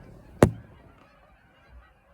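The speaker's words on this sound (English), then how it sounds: "a whole lot of what are they, geese going off, it's just because they're noisy." A single loud goose honk rings out near a lake, sharp and brief, then fades into quiet outdoor ambience.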